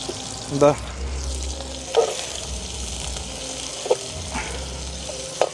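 Onions and chillies fry in a pan for a beef liver curry, giving a steady close sizzle with a few stirring knocks and scrapes, while a person speaks.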